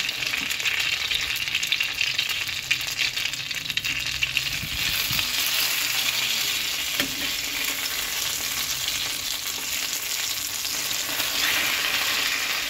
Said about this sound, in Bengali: পুরটাকে এবার ভালো করে ভেজে নিতে হবে।